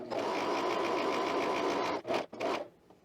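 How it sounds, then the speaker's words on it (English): An overlocker serges around the perimeter edge of fabric for a top, running with a steady fast whirring drone for about two seconds, then stopping and starting in short bursts before falling quiet. "I'm going to overlock around the perimeter edge here."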